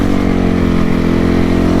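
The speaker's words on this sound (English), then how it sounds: "Yeah, you guys can hear that exhaust leak." A dirt bike engine with an exhaust leak runs loud and close, a steady buzzing idle with a rough, raspy pulsing edge and no talk over it.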